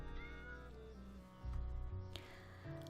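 A cat meows repeatedly in a visual novel video game, several drawn-out, tonal mews in a row, clear and close with no talking.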